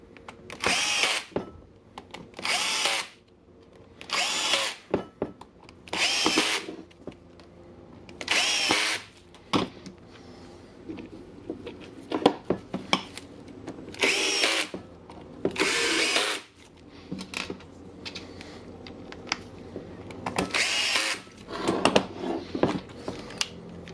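Milwaukee power drill running in a repair shop, whirring in repeated bursts of a second or two with short pauses between, close and loud against quiet shop noise.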